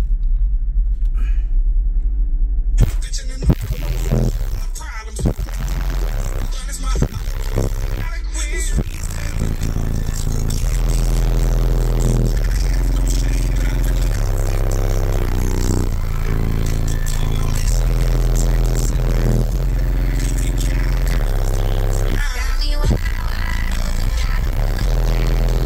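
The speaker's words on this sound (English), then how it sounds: "I'll skip through to where it would just play the bass drops" Heavy, sustained subwoofer bass from a Kicker KXA2400.1 amplifier driving a leaky Q-bomb box with an L7X sub, loud and continuous low rumble with rhythmic drops and rattling over about 25 seconds.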